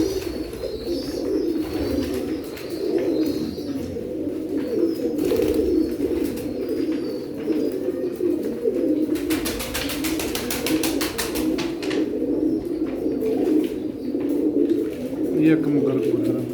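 Pair of Sialkoti pigeons, pearl-eyed, cooing steadily and close for a long stretch, low rolling coos layered with occasional chirps and a burst of fluttering, while someone talks over them.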